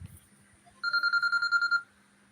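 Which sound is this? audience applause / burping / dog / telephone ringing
telephone ringing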